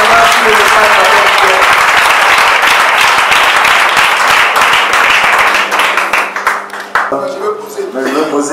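A church congregation applauds, loud dense clapping from many people filling the room before thinning out, with voices speaking and calling out over it near the end.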